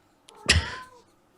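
A single close, drawn-out cat meow, sharp at the start and trailing off, in an otherwise quiet room.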